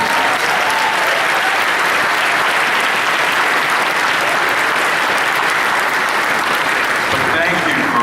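A large convention panel audience at San Diego Comic-Con applauds loudly and continuously, a dense sustained wash of clapping from a big crowd with no break.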